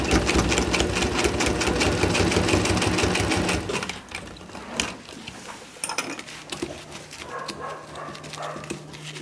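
A sewing machine with worn motor brushes runs loud and steady with a rapid, even needle rhythm for about four seconds, then stops, leaving scattered handling clatter and a faint hum.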